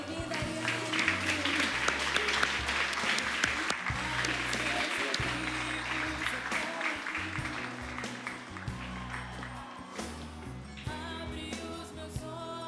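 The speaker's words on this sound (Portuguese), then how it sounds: "Você pode aplaudir o Senhor?" A church congregation applauds warmly during a service, the dense clapping lasting a dozen seconds over steady background music and slowly thinning out toward the end.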